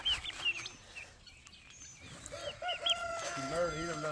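Farm hens and a rooster give short clucks and calls at moderate distance, with a brief crow-like cry near the end; a few soft voices are in the background.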